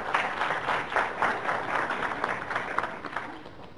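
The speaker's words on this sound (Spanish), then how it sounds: "por favor un fuerte aplauso de estimulación para nuestra compañera" A conference audience gives a speaker a round of applause, dense clapping that swells early and then tapers off toward the end.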